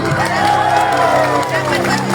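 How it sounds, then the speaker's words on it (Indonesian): Political rally crowd in Melolo cheering and clapping for a candidate, a loud dense roar of applause with whoops throughout, voices mixed into the din. "saya minta tepuk tangan yang meriah buat Uma Lulu"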